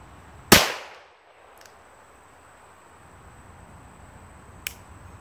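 A Smith & Wesson 317 Kit Gun revolver fires one loud, sharp shot that rings briefly into the outdoor air, followed after several seconds by a much fainter distant crack.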